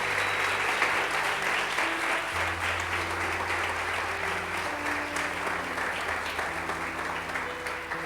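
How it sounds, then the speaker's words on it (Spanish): A church congregation applauds vigorously during a Spanish-language sermon, sustained loud clapping over held organ or keyboard chords that shift pitch underneath. "Si le vas a aplaudir al Señor, dale con fuerza."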